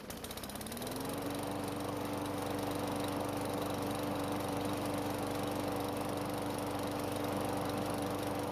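A lawn mower engine, repaired after a carburetor fault that made it start and die, catches within the first second and then runs at a steady, even drone with no stalling.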